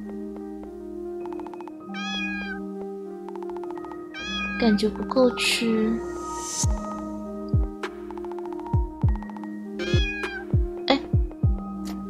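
A cat in a narrative exploration RPG meows repeatedly in short, clear cries over a steady game music background, with a person talking in between.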